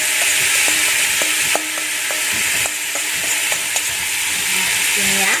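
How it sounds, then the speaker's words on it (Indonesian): Seasoned meat being stir-fried in a few spoonfuls of cooking oil for krengsengan, with a loud continuous sizzle under repeated light utensil scrapes and taps against the pan, close by, and no speech. "lalu kita tumis dulu daging yang tadi sudah kita bumbuin"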